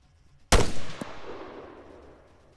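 A single loud rifle shot from infantry combat in the video game ArmA 3 cracks close by, followed by a smaller report and a long echoing tail that fades over about two seconds.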